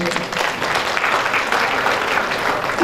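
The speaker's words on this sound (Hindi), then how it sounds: "आप अपने लिए एक बार जोरदार तालियां बजाएं।" Steady, dense applause from an audience for folk dance performers at a school cultural event, a bright continuous patter of many hands without a break.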